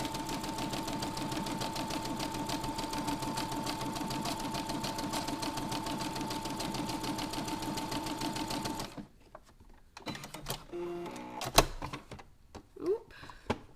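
A home sewing machine runs a thick stitch in one fast, even rattle of needle strokes for about nine seconds, then stops, leaving clicks and handling noises close by.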